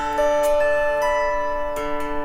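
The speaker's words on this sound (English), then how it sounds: "I'm like taking a mallet and I'll be like playing here" An autoharp is struck with a rubber mallet in a slow rhythm, each hit ringing out in sustained, shimmering string tones that overlap and decay between strokes.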